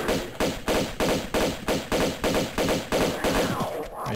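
Rapid, evenly spaced gunshots in Tomb Raider 2 Remastered, around eight loud close bursts in a steady rhythm with no talking over them.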